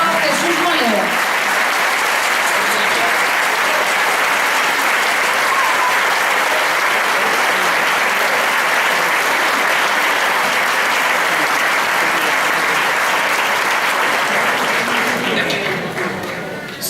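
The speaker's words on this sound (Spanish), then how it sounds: "Un aplauso para nuestra rondalla, dirigida por el maestro Jesús Molero." Sustained, dense applause from an audience honoring a rondalla, a traditional Aragonese string ensemble, at a dance and song school performance; loud and steady throughout before tapering off at the end.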